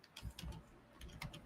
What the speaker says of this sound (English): let me finish typing this